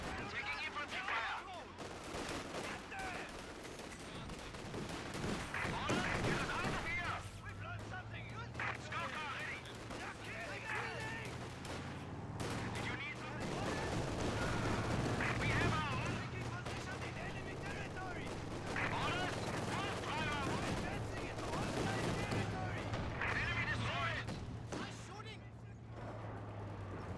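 Infantry gunfire rattles through a real-time strategy battle, dense bursts of rifle and machine-gun shots overlapping continuously with heavier booms, with muffled voice chatter mixed in beneath the firing.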